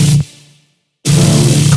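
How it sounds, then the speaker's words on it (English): A vocoded dubstep bass chord for a tearout drop plays loud and thick, cuts off into a brief silence, then slams back in sustained and dense. "It becomes a bass chord."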